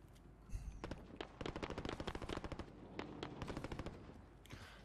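Rapid automatic gunfire in Call of Duty Warzone battle royale, a string of quick sharp shots in dense bursts with short gaps, fairly close and prominent, with no talking over it.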